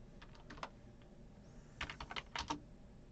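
A computer keyboard is typed on to enter text in the Canva design tool, giving quiet, close clicks in short uneven clusters of keystrokes with pauses between.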